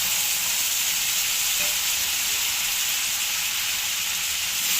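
Cauliflower florets fry in a pan with a steady, close sizzle that holds evenly throughout, with no talking.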